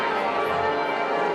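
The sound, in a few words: bells ringing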